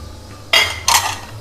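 Powdered dry-roasted pistachios and almonds stirred into spices in a pot over a low flame, two brief scraping clinks of a spoon against metal, close and alone.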